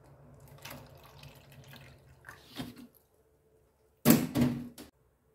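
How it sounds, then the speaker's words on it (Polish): Water poured from a container into a small cup, a short gurgling splash following a few quieter clinks and handling sounds, with a brief pause before the pour. "Bierzemy kubeczek, nalewamy wody."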